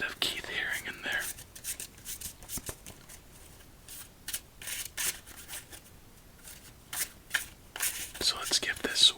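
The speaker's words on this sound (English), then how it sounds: "So let's give this one more shuffle," A deck of playing cards with cactus-themed art, used for a solitaire game, is shuffled close up in quiet ASMR style, with soft riffling and rustling bursts spread through the clip under occasional whispering.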